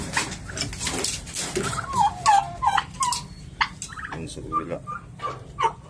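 Hungry farm turkeys gobbling alongside chickens, with ducks nearby, a busy chorus of overlapping gobbles and clucks close by, someone speaking briefly among them.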